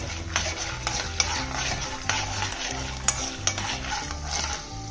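Urad dal and chana dal roasting in a pan, a spoon stirring and scraping in repeated light strokes with soft occasional clinks over a low background.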